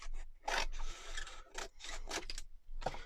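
Scissors snip and rasp through junk journal cover material in short bursts close by, several cuts separated by brief pauses.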